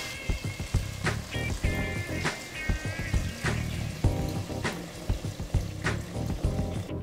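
A busy sizzle of button mushrooms frying in a pan, with scattered clinks and scrapes of a utensil stirring throughout.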